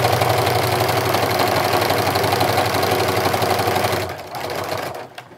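A sewing machine stitching a jelly roll rug strip, running loud and steady with a fast mechanical whir, then slowing and stopping near the end with a brief click.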